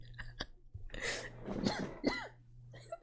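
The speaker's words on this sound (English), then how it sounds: "Made me cough" A short cough close to the microphone, with throaty catches and small vocal sounds around it, brief and moderately loud against a quiet room.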